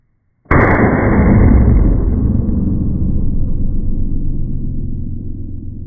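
A single loud, close gunshot fired through a cheap Amazon muzzle brake compensator: a sharp crack that trails into a long, rumbling boom lasting several seconds.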